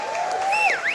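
An audience at a comedy show applauds comedian Yemi Afolabi: brief, close clapping with a shrill whistle sliding up and down over it.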